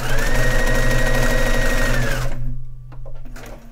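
A sewing machine runs loud and close while stitching hems on a dog bed, a fast steady whir for about two seconds before it stops and leaves a quieter rustle.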